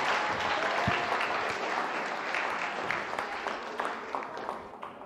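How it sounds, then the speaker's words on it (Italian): A crowd applauds a synchronized swimming team, steady, full clapping from many hands that holds throughout and thins slightly near the end. "possiamo fare un applauso a questa squadra?"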